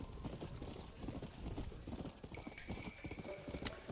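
Horse galloping in Red Dead Redemption: Undead Nightmare, rapid rhythmic hoofbeats running continuously and fairly close, with faint game effects and a brief high chime near the end.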